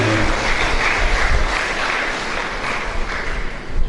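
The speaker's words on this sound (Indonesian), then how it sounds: "Jadi sekali lagi tepuk tangan." An audience at a teachers' education program workshop and festival gives steady applause, a dense continuous wash of clapping with no talk.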